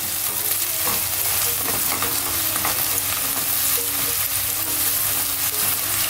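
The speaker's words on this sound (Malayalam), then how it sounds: "ഇനി നമ്മുടെ ഈ സവോള ഒന്ന് ഇട്ട് വഴറ്റണം." Onions sautéing in ghee in a pan over medium flame, a loud steady sizzle with frequent scraping stirs, close up and continuous throughout.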